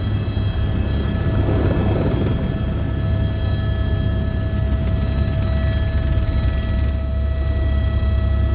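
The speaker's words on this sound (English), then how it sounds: "incredible persistence from Anish and Jeet, we were called to board what was to be the last helicopter flight of the day." Steady, loud rotor and engine drone of a helicopter flying toward Lukla, Nepal, constant throughout with a low pulsing thump and a higher whine.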